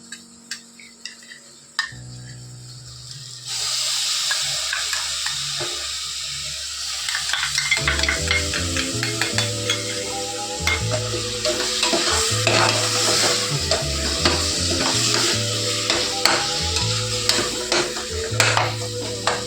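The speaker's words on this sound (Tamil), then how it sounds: "இஞ்சி பூண்டு பேஸ்ட்டு தான் நம்ம போட போகிறோம்." Ginger garlic paste frying in a pan with a steady sizzle, stirred with repeated scraping and tapping strokes that grow louder and busier after the first few seconds, with no talking.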